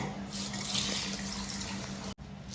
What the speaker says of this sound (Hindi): ये मैंने चावल धो के लिया अच्छा से